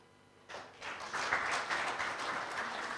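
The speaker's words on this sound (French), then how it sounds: "On applaudit très très fort" Audience applause breaking out at the FIBA Afrobasket 2017 draw ceremony, a sudden swell of many hands clapping that holds steady and moderately loud in a large hall.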